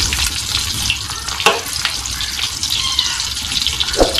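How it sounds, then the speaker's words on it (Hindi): Bitter gourd (karela) pieces frying in oil in a pan for keema karela, a loud steady sizzle and bubbling with occasional clinks of utensils. "ये हम इनको फ्राई कर रहे हैं।"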